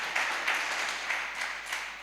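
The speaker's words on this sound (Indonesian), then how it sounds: "Berikan tepuk tangan yang meriah bagi Tuhan" Congregation applauding during a church worship service, a steady wash of many hands clapping at moderate distance with faint voices mixed in.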